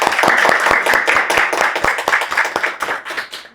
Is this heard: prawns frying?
no